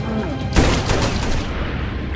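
A burst of gunfire in a film rings out, with one sharp loud crack followed by a rapid volley of pistol shots fired from in the water, under dramatic film audio.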